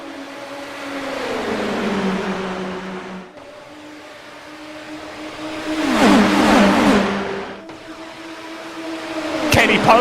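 Indy NXT race cars pulling away at a race start, engines climbing in pitch through repeated gear changes, loud and close, with a rising rush as cars pass and a commentator talking over the noise.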